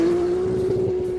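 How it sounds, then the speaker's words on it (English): A 1400-horsepower AMS Performance Alpha 12 Nissan GT-R gives off a steady, close engine drone that holds one even pitch, with no talk over it. "this is the Alpha 12 GTR, which is kind of the top of the line package we have"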